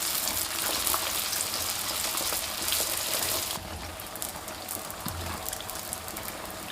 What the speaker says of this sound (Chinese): 轻轻抻住两边，放入锅中。 油条鼓起，立马翻动。